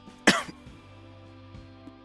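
One sharp, close cough, followed by faint breathing against a low steady hum in a quiet room.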